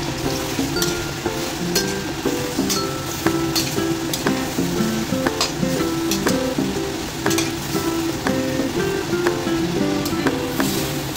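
Beef and cabbage stir-fry in a pan with a continuous loud sizzle, punctuated by rhythmic clinks and scrapes of the utensil against the metal, no voices.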